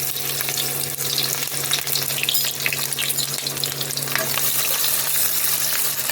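Chopped onions sizzle and crackle in hot oil in a pan while being stirred for chili pasta, a steady bright frying hiss with occasional scraping, no talking.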